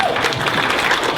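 Schoolchildren in Ghana clap together in a brief burst of fairly close, dense applause with a slight crowd murmur.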